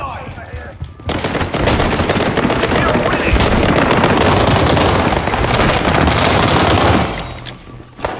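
Sustained automatic gunfire in the online shooter World War 3, loud and relentless for several seconds with bursts overlapping, fading into quieter battle noise at the end, and a voice briefly talking before it starts.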